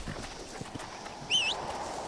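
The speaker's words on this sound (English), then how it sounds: "So I got a new horse then, I guess, right?" Horse hooves clip-clop in the Western video game Red Dead Redemption, a brief run of soft, close hoofbeats on the ground with a short whinny-like tone near the middle and no talk.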